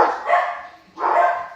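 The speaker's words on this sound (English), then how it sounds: "There must be a delivery man because my dogs are going nuts." Dogs barking excitedly at a delivery man, two loud bursts of rapid barks close by in a home kitchen where sourdough bread is being made.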